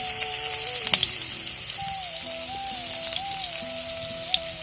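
Chopped onions sizzle in hot oil in a steady, close crackle, with a faint melodic tone in the background.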